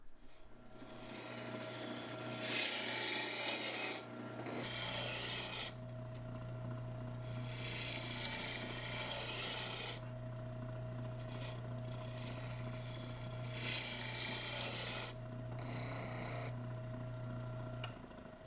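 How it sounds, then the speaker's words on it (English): A wood lathe spinning at 1800 RPM hums steadily while a 3/4 inch roughing gouge turns a small wooden block, producing repeated loud rasping scrapes in bursts a few seconds long with short pauses between cuts. "My first step is to turn the wooden block into a cylinder, and to do that I use my 3/4 inch roughing gouge."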